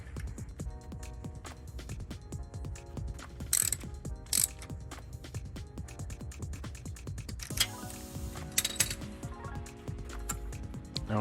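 A ratchet tightening the bolt on the crankshaft position sensor of an Infiniti G35, rapid close clicking from the pawl in repeated bursts, with brief metallic clinks between strokes and no talk.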